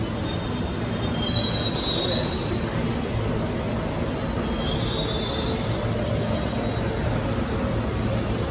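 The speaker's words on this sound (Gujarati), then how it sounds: "તો હવે જઈ રહ્યો છું હું મેટ્રોની અંદર." An Ahmedabad metro train runs with a steady, loud rumble throughout, its wheels giving off high, thin squeals that rise and fade at intervals.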